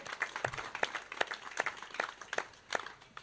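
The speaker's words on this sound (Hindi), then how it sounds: "एक बार जोरदार तालियां बजाइए।" A Holi kavi sammelan audience on a television stage gives quiet, rhythmic applause. Sharp claps fall at an even beat, about nine in all, fairly faint over a thin crowd patter.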